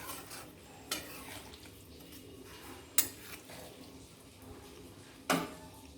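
A spoon stirs a pan of katla fish curry just topped with coriander leaves: a quiet scraping stir broken by three sharp metallic clinks, with no voices.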